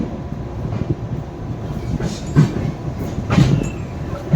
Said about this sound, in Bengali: চলো স্টেশন ছাড়ছে ট্রেন।